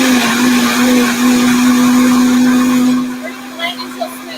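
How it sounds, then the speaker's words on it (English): Kitchen blender running on low while blending cucumber gazpacho, a loud steady motor whine that cuts off after about three seconds, followed by a few brief faint knocks. "I always start my blender on low"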